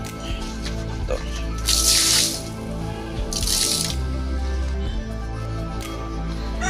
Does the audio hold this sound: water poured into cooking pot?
yes